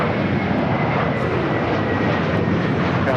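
A plane takes off from runway 25 right at Los Angeles International Airport, its engine roar steady, loud and broad throughout, with no voices over it.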